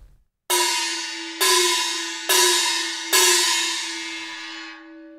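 Pitched tam-tam hit four times in succession, each loud metallic stroke sustaining with a pitch that bends downward, the last ring fading out slowly with no voices present.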